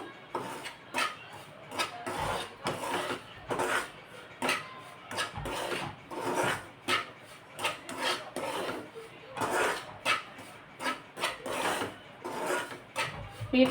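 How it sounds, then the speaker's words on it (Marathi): Semolina roasting in a spoonful of ghee in a pan, stirred steadily for a banana sweet, giving repeated soft scraping and rasping strokes in an even rhythm, close and moderately quiet with no talk. "रवा भाजेपर्यंत हे खमंग आपण भाजून घेऊ"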